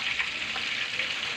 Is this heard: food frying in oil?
yes